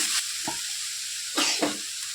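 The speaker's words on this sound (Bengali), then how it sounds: "এবার দিলাম হলুদ। এরপর আবার একটু মিশিয়ে নিচ্ছি।" Cabbage frying in a pan as turmeric is stirred in, a steady hiss of sizzling oil broken by a few scraping strokes of the spatula, close and alone.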